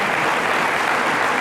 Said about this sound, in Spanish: un aplauso para este sentido del humor